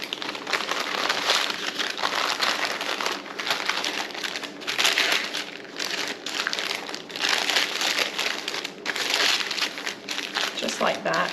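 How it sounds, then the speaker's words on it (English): Wax paper crinkles and rustles close by, loud and continuous, as it is folded twice around a block of homemade butter. "And I double wrap it, so one more piece of wax paper."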